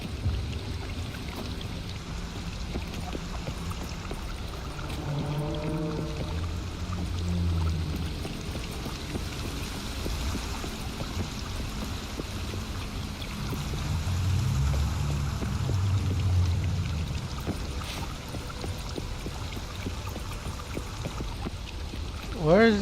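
A river current flows in The Witcher 3: Blood and Wine as a steady rushing wash of water that swells slightly midway, with a voice speaking briefly over it.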